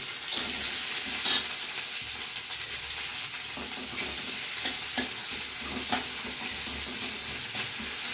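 Chopped garlic sizzling and frying in a pan for a Bengali drumstick-leaf and mango dish, a steady close crackle with faint stirring clicks throughout, no talking.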